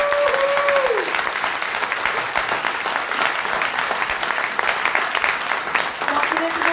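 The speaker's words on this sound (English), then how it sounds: "Can I get one last round of applause for our candidates" A crowd at a college all-candidates forum applauds for the candidates and volunteers, with sustained dense clapping throughout and a voice speaking briefly over it at the start and near the end.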